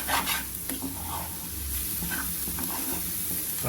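Pepper egg masala is stirred in a hot pan under a steady, close sizzle, with repeated spatula scrapes and light clicks and no talking.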